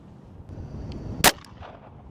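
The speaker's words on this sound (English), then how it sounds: "All right, we're moving up to our Glock 19. We're shooting a FMJ 9mm." A single sharp gunshot from a Glock 19 pistol firing 9mm FMJ rounds cracks loudly outdoors, preceded by faint handling sounds and followed by a brief echo.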